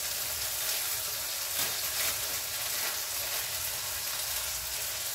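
Fenugreek and cumin seeds splutter and sizzle steadily in hot oil, a dense continuous crackling frying noise heard close with no talking.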